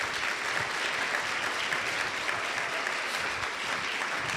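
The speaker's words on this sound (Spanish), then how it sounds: "Denle un aplauso al Señor." Church congregation at a sixth-anniversary service of a house of prayer applauding the Lord, a full, continuous wash of many hands clapping at steady loudness throughout.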